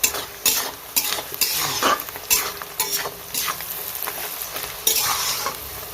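Onions frying in a pan for Bihari-style chicken, with a steady close sizzle broken by repeated scraping stirs of a spatula and occasional clinks.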